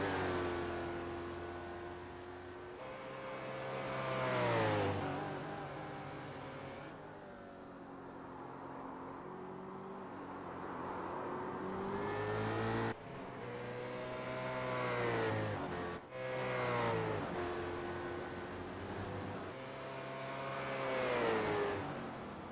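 Race cars in an Aus/NZ Grand Am race, one running with heavy front-end damage, roar past with engines revving and rising in pitch, several loud passes sweeping up and down over about twenty seconds.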